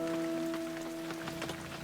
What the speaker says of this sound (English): A little bit of rain, but still beautiful.